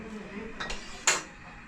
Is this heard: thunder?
no